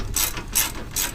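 A ratchet wrench clicks through three quick bursts of cranking while tightening bolts on a 2007 GMC 5500 truck, close and fairly loud, with short pauses between strokes.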